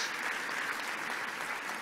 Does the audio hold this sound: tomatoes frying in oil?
no